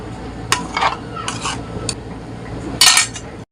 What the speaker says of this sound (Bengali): টমেটোর পেস্টটাও রেডি হয়ে গেছে এটাও একটা বাটিতে ঢেলে সাইডে রাখছি